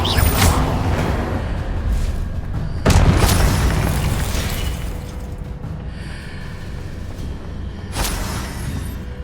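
Explosive Confringo spell blasts in Hogwarts Legacy boom loudly and near, three heavy bursts spaced a few seconds apart over a continuous rumbling game background.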